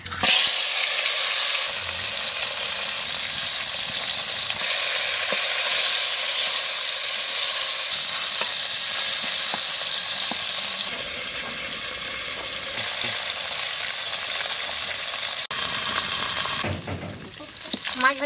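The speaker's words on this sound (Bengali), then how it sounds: "তেল গরম হয়ে গেছে মাছ দিব" Fish frying in hot oil in a wok over a village cooking fire, a loud, dense hissing sizzle that holds steady for many seconds, with brief shifts and a clatter near the end.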